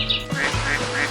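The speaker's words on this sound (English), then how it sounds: "A duck." A duck quacks in a quick series of three or four nasal calls, close and clear, set over a soft musical backing.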